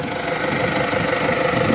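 A 2022 MTZ 892 tractor engine runs at a steady idle, with a continuous loud diesel drone and vibration and no other sounds.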